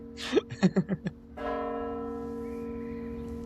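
A bell ringing at five o'clock, with a few quick knocks before a sustained, humming tone that rings out and slowly fades, heard clearly without talk.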